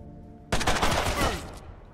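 Enemy gunfire in the video game Mutant Year Zero: Road to Eden, a sudden loud burst of rapid shots lasting about a second, cutting off after a quiet lead-in.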